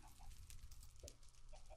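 Chicken clucking in the video game Minecraft: a few short, soft clucks spread across a low background hum, fairly quiet and with no voices.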